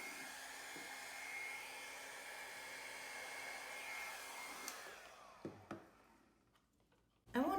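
A hair dryer blows acrylic paint across a canvas in a pink and purple Dutch pour, a steady whirring hum that cuts off midway, followed by a few small clicks and a louder noise at the end.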